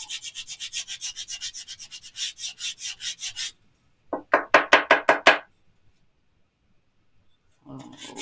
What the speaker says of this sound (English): I'm going to fold my paper in half, and I'm going to get that corner right inside and just sand that for, 10 seconds